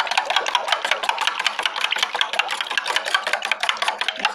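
Egg being beaten with vanilla flavouring for a vanilla cake batter, a fast, steady rhythm of close, bright rapid strokes, like a whisk or fork against a bowl, continuing throughout with no talking.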